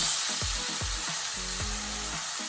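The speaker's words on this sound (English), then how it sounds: "So we're going to put the steak back down." A steak set back down in a hot pan, a loud, steady, close sizzle with a repeating low thumping rhythm underneath, no speech.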